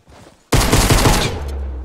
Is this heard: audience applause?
no